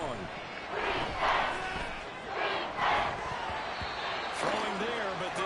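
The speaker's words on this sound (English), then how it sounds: "This crowd turning up the decibel level." Football stadium crowd roaring during a game, a broad continuous din that swells loudly in waves around the second and third seconds, with fainter voices mixed in.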